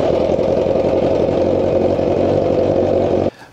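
A Kawasaki GPZ motorcycle engine at fast idle, a steady close loud thrumming with an even pulse that cuts off abruptly near the end.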